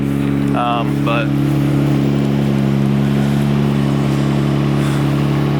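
Nissan R32 GTR engine idling at about 1,000 to 1,100 rpm, a loud close steady low hum with a regular pulse, while someone talks briefly at the start and again near the end.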